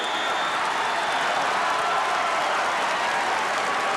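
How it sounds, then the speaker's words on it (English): A packed crowd at a 1981 NCAA basketball national championship game, Augustana versus Potsdam, roars and claps in a dense, continuous wash of noise that stays loud and unbroken from start to finish. "They're packed in here like sardines, and they make a lot of noise."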